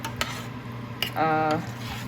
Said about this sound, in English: now I'm going to stir it and allow it to cook further on medium